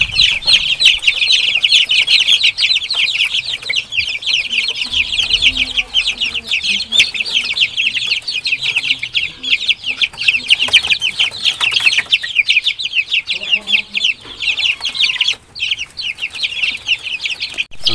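A flock of free-range Basilan native chickens, month-old and large, clucking and chirping continuously and loudly nearby, with occasional wing flaps amid the farmyard chatter.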